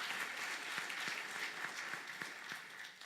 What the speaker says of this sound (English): give them a well-deserved round of applause to all our distinguished speakers